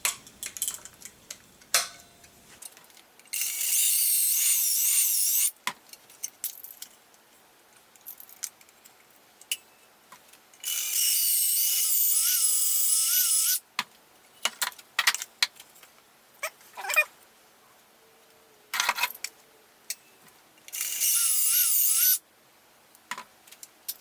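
Three loud bursts of power drilling into the edges of a wooden board for a shelf, each lasting a few seconds, separated by quieter handling clatter and clicks.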